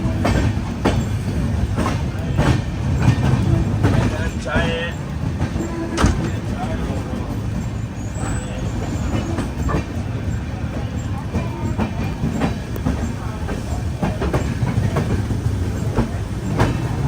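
Navajeevan Express rolling out of Udna Junction, heard from on board as a loud, steady rumble with intermittent clickety-clack of the wheels, and voices talking over it.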